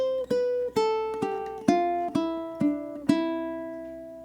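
Ukulele in a swing rhythm playing an eighth-note fill that walks down, about eight crisp plucked notes in steady succession, close and clear, with no talking.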